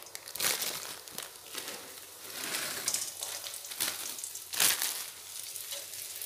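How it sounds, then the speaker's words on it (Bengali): Lentil badis frying in hot oil in a kadai, a steady broadband sizzle with crackling bursts that swell and fade, alone and close. "বড়িগুলো খুব ভালোভাবে ভেজে নেব"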